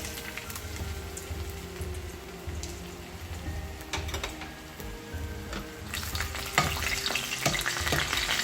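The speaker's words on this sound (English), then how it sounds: "As the oil is heated, I'm going to put the ginger." Julienned ginger frying in hot oil over a low flame, a steady close sizzle with crackles that grows louder and busier near the end, no voices.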